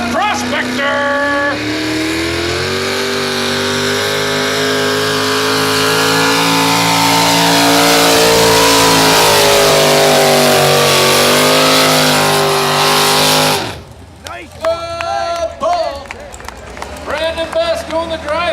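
A modified 2WD truck in the 6200 lb class at a truck and tractor pull roars loudly on alcohol fuel, its engine climbing and holding a strained howl for about thirteen seconds, then cutting off as crowd noise and voices follow.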